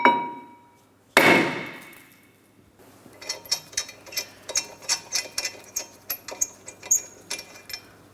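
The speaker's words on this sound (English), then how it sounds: "we're going to tap on the brake rotor" Tapping on the front brake rotor of a 2011-or-later Mitsubishi Outlander to free it, a loud metallic clang ringing out, then a run of about a dozen sharp rhythmic metal taps close by.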